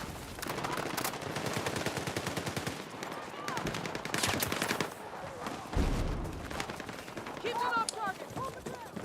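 Rapid automatic gunfire from Battlefield 6 multiplayer Domination, sustained bursts of loud shots running nearly throughout, with explosive cracks and a speaking voice in between.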